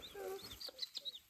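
Newly hatched chicks peep in a rapid series of high, thin chirps close by, faint and alone with no talking.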